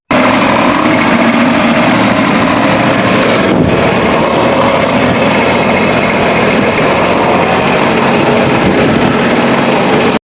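A farm tractor engine runs at a steady, loud, close drone that stays even throughout and then cuts off sharply at the end.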